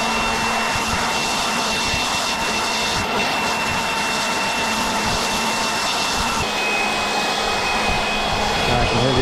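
A Milwaukee M18 Fuel cordless leaf blower, second or third generation, runs with a steady, loud, close whooshing roar and high motor whine that holds throughout, with the pitch shifting slightly near the end.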